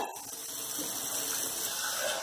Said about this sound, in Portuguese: Vamos ver mais água aqui.